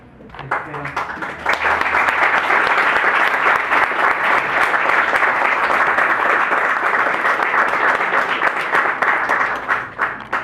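Sustained audience applause after a talk on figurative painting, beginning after a brief quiet moment and holding loud and steady, then tapering slightly at the end.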